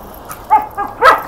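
A dog gives three short barks with a whimpering, yipping edge, fairly close and loud, over a quiet background.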